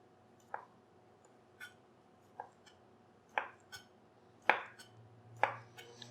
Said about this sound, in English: I like to slice the cucumber a little thick as well.